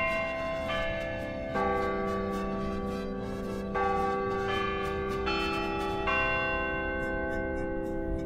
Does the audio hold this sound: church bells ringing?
yes